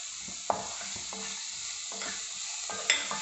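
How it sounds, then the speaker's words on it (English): Onion frying over a low flame in a pan with spices, giving a steady soft sizzle broken by a few scraping stirs and brief clatters from a utensil. "And we'll fry till onion becomes little soft."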